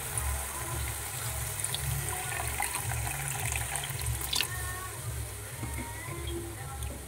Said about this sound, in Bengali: এবার আমি এখানে জল অ্যাড করে নেব।